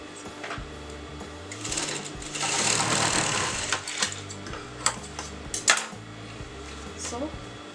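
A sewing machine stitches a designer blouse in short bursts, its rhythmic mechanical clatter starting and stopping close by with light handling sounds between runs.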